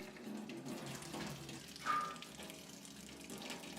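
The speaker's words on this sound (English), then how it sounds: "Wash and clean the seashell well." Seashell waste being washed under running water, a steady close stream from a tap with splashing and a brief louder gush midway, and no talking.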